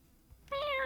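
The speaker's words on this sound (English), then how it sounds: "She's a cat." A cat gives a single short, clear meow near the end, after a quiet moment.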